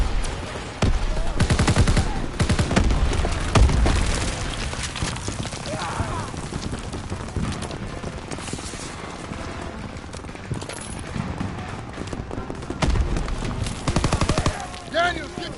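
Dense WWII battle gunfire from Call of Duty WWII, with rapid rifle and machine-gun bursts cracking continuously near and far while soldiers shout over the din.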